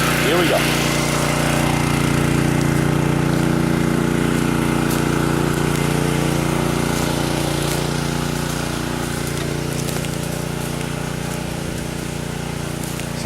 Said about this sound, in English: Okay, pump is primed, pump is going.